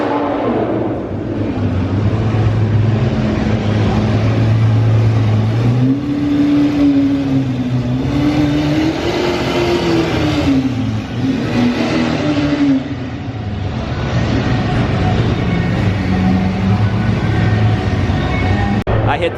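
A Lamborghini Aventador's engine revs and drones loudly at an underground car meet, rising and falling in pitch under a crowd's general noise, with a person talking nearby.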